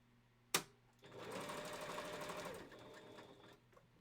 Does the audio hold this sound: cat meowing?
no